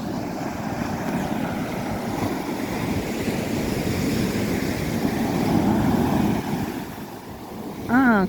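Sea surf washing onto a shore at sunset, a steady loud rush of breaking waves with gusty wind noise throughout, swelling toward the end and joined by a brief sharp tonal sound in the final moment.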